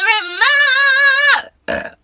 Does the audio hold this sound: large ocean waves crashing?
no